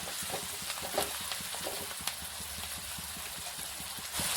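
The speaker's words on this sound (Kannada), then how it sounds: "ಇವಾಗ ಮೆತ್ತಗಾಗತ್ತಾನ ಒಂದು ಸ್ವಲ್ಪ ಫ್ರೈ ಮಾಡ್ಕೊಳ್ಳೋಣ" Tomatoes softening in a pan with salt and coriander, frying with a steady low sizzle under repeated soft scrapes and stirring clicks, close and moderately loud throughout.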